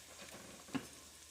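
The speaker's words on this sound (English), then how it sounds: "half of the peppers, and get them sauteing" Peppers sautéing with salt in a pan, a soft steady sizzle with light stirring scrapes and one brief louder knock near the middle.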